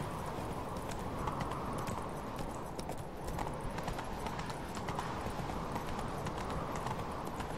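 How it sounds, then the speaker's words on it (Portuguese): Rapid, steady clip-clop of horse hooves climbing stairs in The Witcher 3 video game, continuous and fairly quiet throughout. "Cara, subir escada com o cavalo é..."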